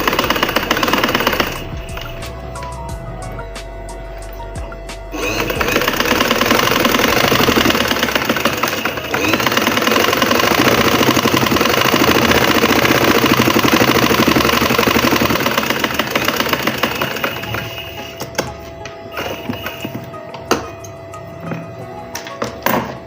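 A sewing machine stitching a straight seam on double-folded cloth, its motor whirring loudly and steadily for most of the stretch with only brief slowdowns, close up and with no talk.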